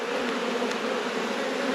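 Honey bees buzz in an open two-box hive packed with bees and brood, a steady close-up drone with a constant pitch, soft in level and with no voices.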